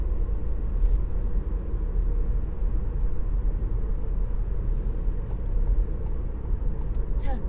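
A 2018 Ford Fiesta 1.0 litre turbo EcoBoost engine drones steadily while driving, a continuous low road rumble with no clear gear changes.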